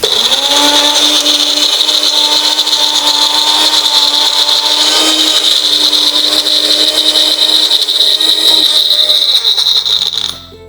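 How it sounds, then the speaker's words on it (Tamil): A mixer grinder blends amaranth leaves with soaked fenugreek and garlic cloves, a loud continuous high-pitched whir running for about ten seconds before it abruptly winds down at the end. "மறுபடியும் நம்ம கீரை அரைக்கும் போது வெந்தயத்தையும் ஊற வச்சு சேர்த்து அரைச்சிடலாம்."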